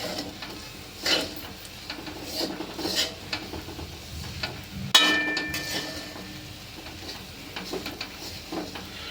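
Grated coconut stirred into green turmeric in a pan on a low flame, giving steady scraping and soft sizzling with a few sharper clinks of the spoon against the metal.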